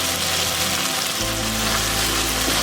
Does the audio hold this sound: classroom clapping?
no